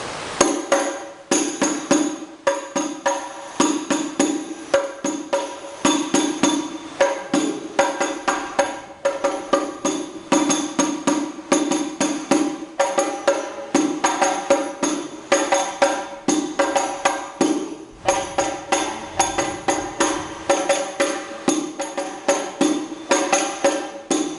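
Hadroh frame drums beaten in a steady repeating pattern of alternating deep 'dung' and sharp 'teng' strokes, loud and close, continuing alone for the full length with one brief pause.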